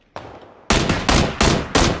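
Four loud, sharp gunshots in the video game PlayerUnknown's Battlegrounds ring out in quick succession after a brief faint pop, each one crisp and close with a short tail.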